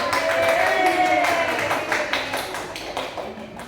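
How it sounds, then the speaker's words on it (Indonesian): Audience applause at a school session on positive culture, dense rapid clapping from many hands filling the room, steady and fairly loud throughout and easing slightly toward the end. "Kita beri aplaus"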